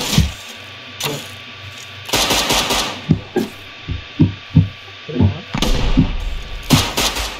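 Gunfire in the survival game Rust, heard as loud broadband bursts and sharp repeated shots, some clustered in quick volleys, spread across the clip with quieter gaps between them.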